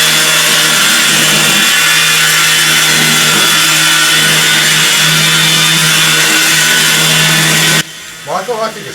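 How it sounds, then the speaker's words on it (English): Rough edges of a wooden model train bridge being sanded: a loud, steady abrasive rasp runs for about eight seconds, then stops as a voice begins. "sand off the rough edges, and we'll have ourselves a perfect bridge"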